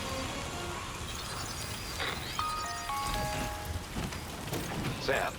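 Steady rain hisses in the Death Stranding 2 video game, moderately faint, under scattered game effects and brief tonal chimes, with a voice speaking softly in the background.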